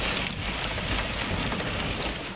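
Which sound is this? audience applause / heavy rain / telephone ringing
heavy rain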